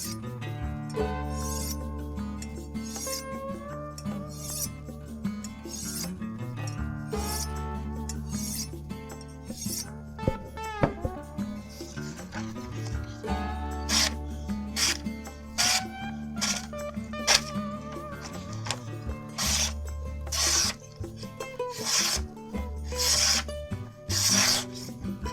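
Repeated rasping strokes of a kitchen knife drawn along a ceramic honing rod, scraping in steady passes over a low background hum, with no voices.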